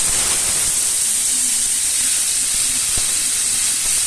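Spice paste for egg kosa sizzling steadily in hot oil, a loud continuous broadband hiss with a few faint clinks, no talking.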